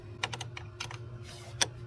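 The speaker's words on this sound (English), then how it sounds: "I might zip tie all that together." A zip tie is pulled tight around car battery cables while a battery starter is installed. It gives a quick run of small ratcheting clicks in short bursts, close and quiet.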